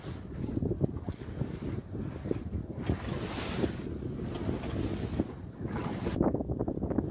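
A sailboat with a self-made windvane steering at sea in the North Sea, with waves sloshing and splashing against the hull and gusty wind buffeting the microphone, continuous and fairly close, with no voices.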